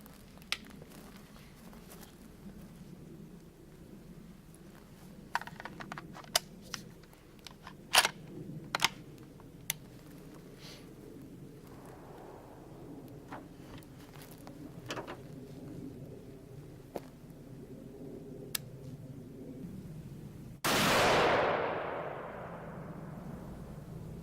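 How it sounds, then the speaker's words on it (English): A Thompson Center Venture rifle in .280 Remington fires on a range, heard as several sharp, distant-sounding cracks spaced seconds apart amid quiet outdoor background, with a louder burst of noise near the end. "I just wanted to show you these first 4 shots"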